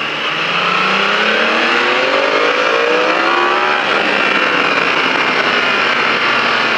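A motorcycle on the La Ferté-Gaucher circuit accelerates hard out of a lean through a corner. Its engine note climbs steadily and stays loud and close for the whole stretch, with no voices.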